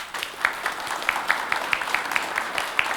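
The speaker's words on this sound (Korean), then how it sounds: "여러분들 우리 한대희 후보한테 박수 한번 쳐주시죠" Scattered applause rises from a debate audience for a Gunpo mayoral candidate, moderately faint, individual claps audible through a soft room background, steady and unaccompanied by speech.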